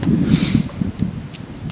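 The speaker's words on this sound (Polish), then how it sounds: "mocny wiatr, według meteo porywy około 25 metrów na sekundę" Strong southerly wind gusts buffet the microphone during a long bike ride, a steady loud rumbling roar with surging peaks throughout and no talking.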